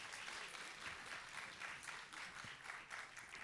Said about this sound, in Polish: Raz jeszcze wielkie brawa i gratulacje.